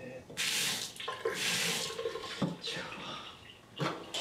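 Water runs from a bathroom tap for face washing, a close steady hiss of flowing water that starts and stops several times with splashes, while someone talks over it.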